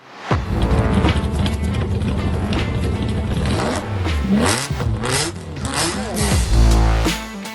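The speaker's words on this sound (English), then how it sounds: "That is his TVR Cerbera." A TVR Cerbera sports car engine revs loudly and close, with rising and falling throttle blips through the clip and a heavy surge near the end.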